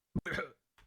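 A single short recorded cough with a throat-clearing rasp, close and dry, followed by brief silence and a faint trailing breath.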